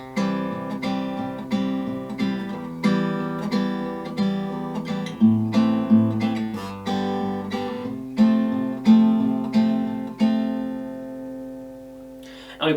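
Acoustic guitar strums the verse chord progression of a song in a steady, evenly accented rhythm, chords changing every couple of seconds, played solo and close up.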